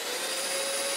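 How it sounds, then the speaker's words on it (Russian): A Festool workshop vacuum cleaner runs steadily with a loud, constant whirring hiss and a high motor whine. "Пылесос у нас работает."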